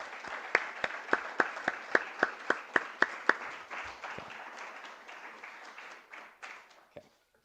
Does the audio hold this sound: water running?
no